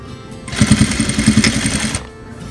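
Sewing machine stitching fabric for a small guinea pig and hedgehog cuddle cup bed, one steady, close, rapid mechanical burst of about a second and a half with quiet room tone before and after.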